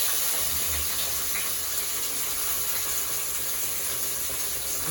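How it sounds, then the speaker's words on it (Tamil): Hot oil hissing steadily in a pan over a flame, a broad continuous sizzle with no gaps from start to finish and no voices. "எண்ணெய் கொதிச்சிருச்சு பாருங்க."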